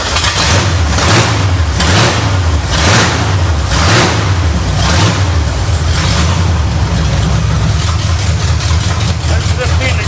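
A 302 V8 boat motor swapped into a truck, running with plug wires mixed up, holds a loud, steady idle with a pulsing low rumble that surges in rhythmic waves, then settles into an even drone.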